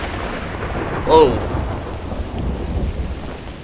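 A single thunder crack from a lightning strike in the stealth video game Splinter Cell: Blacklist, set at an abandoned mill, bursts out briefly over a steady wash of rain and storm noise.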